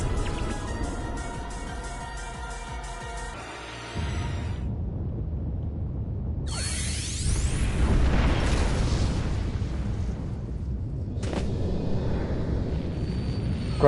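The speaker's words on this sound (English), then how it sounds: "I'm gonna get out of here before the explosion." A PSO2 video game battle scene where tonal synth music cuts off into a deep rumbling explosion, followed by sweeping whooshes and sustained roaring blasts that swell and carry on, loud and without talk.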